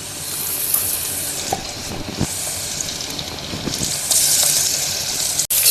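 Ginger garlic paste sizzles steadily in a hot pan for biryani, a loud continuous frying hiss with occasional stirring scrapes and no voices.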